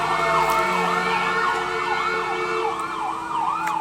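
Emergency sirens yelp in a fast, repeating rise-and-fall pattern, loud and continuous, with other wailing tones layered underneath.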